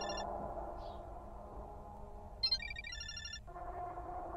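A phone ringing in the video game Parasocial, a quiet electronic ring in short bursts of repeated chirping tones over a low background hum, with a brief burst of static in between.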